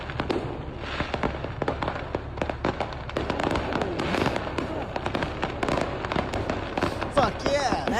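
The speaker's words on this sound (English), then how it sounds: "That should just be a fireworks show somewhere once." Fireworks set off from a fireworks truck, with many sharp pops and crackles bursting in rapid, irregular succession throughout, fairly loud and close, with a voice briefly heard among the bangs.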